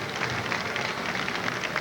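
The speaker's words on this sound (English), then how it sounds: "Let's listen to the applause" Distant crowd applause for a West Virginia marching band along a 1990 parade route in Charleston, a steady wash of clapping heard from afar.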